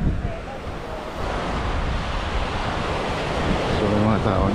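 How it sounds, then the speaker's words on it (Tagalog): Wind and surf at Buruanga Beach on Panay Island, Aklan: a continuous loud roar of blustery wind buffeting the microphone over rolling, breaking waves, steady with no pause. "Sana hindi lang lumakas yung hangin para sa hindi mo lumakas yung alon dito."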